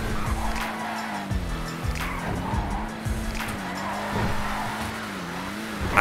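A car in the video game GTA Online accelerates hard, its engine droning loudly and steadily while tires squeal over it in repeated waves, with no talk heard.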